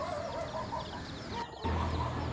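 Chickens cluck and murmur steadily in the background on a farm, a flock of several birds at moderate distance, with a brief dropout partway through.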